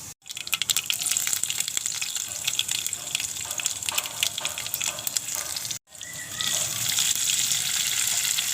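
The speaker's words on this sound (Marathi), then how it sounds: "कुकर गरम झाला आहे, तेल घालून घेते." Oil sizzles steadily in a heated pressure cooker on a gas stove, a close, continuous frying hiss with brief crackles, cut by a short break before it resumes loudly.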